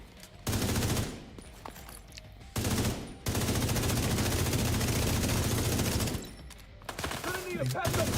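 Sustained automatic gunfire from a shooter video game, dense rapid bursts in long stretches broken by brief pauses, loud and close, with faint game sounds in the gaps.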